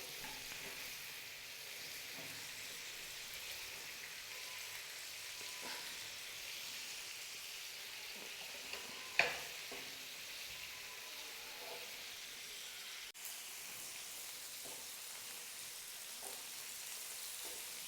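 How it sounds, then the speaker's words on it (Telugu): Korameenu fish pieces sizzle steadily in hot oil in a pan over medium flame, a continuous close crackling hiss with one brief louder pop midway and no talking. "మీడియం ఫ్లేమ్లో పెట్టుకొని వేయించుకోవాలి."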